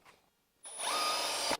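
A power drill bores holes into a carbon fibre skid plate for a CRF300 rally bike: a short quiet pause, then a loud, steady high-pitched whine of the bit cutting through the composite that stops abruptly.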